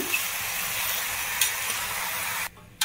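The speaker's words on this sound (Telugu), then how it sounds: "సో ఇప్పుడు మనం చికెన్ యాడ్ చేసుకున్నాం" Chicken pieces sizzling and frying in a 24cm AMC roaster pan for chicken curry, a steady close hiss of searing with faint stirring, cutting off abruptly near the end before a brief return.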